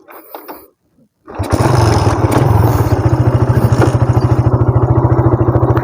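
A Suzuki Raider 150 carbureted motorcycle with a broken starter is started after brief handling noises and silence, then catches and settles into a loud, close, rapidly pulsing idle.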